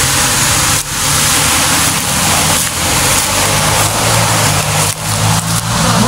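A motorcycle engine hums and revs steadily nearby, with a continuous rumbling drone and brief dips in loudness.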